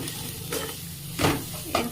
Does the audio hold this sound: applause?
no